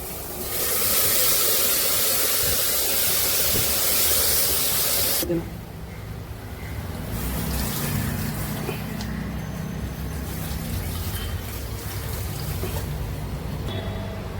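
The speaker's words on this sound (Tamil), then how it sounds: "இப்போ இதில் நம்ம இந்த கரைச்சி வச்ச புளி தண்ணியை ஊற்றிடலாம்." Tamarind water poured into a hot pan while cooking sambar gives a loud, steady sizzling hiss that stops abruptly midway, followed by quieter bubbling and kitchen noise.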